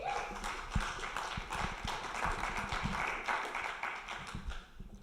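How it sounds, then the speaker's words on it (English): Applause from a public meeting audience, a dense patter of many hands clapping at a moderate distance, steady for several seconds before thinning out near the end. "Give him a round of applause"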